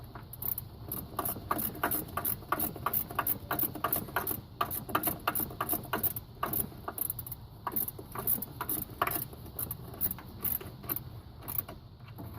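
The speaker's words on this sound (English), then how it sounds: "We go tighten it back a little more on the other 17mm." A ratchet tightening a 17mm bolt during a 1ZZ engine rebuild, a rapid run of close, dry clicks repeated in bursts of steady strokes with brief pauses between them.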